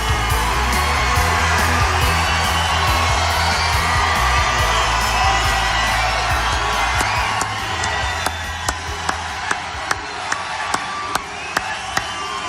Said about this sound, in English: That is a big, big crowd.